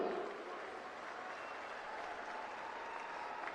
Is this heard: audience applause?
yes